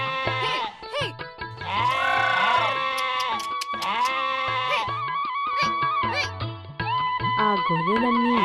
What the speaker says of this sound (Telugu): రామన్న గొర్రెలను తీసుకుని బయలుదేరాడు.